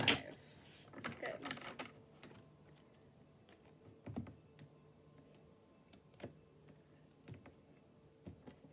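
Tarot cards being shuffled by hand in a quiet room, heard as a burst of riffling at the start followed by sparse, faint card taps and flicks.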